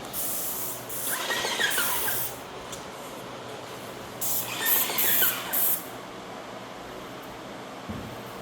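An aerosol spray paint can sprays onto a papier-mâché costume piece in two bursts of a few seconds each, a sharp hiss up close with quiet pauses in between.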